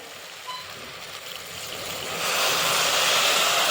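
A steady hiss of water being poured into a pan of sautéed rice for masala bhaat, starting softly and swelling into a fuller, louder stream.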